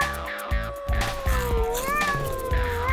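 A hungry cat meows in long, wavering cries close by, one drawn-out call sliding in pitch followed by another, with small clatters and faint background noise around it.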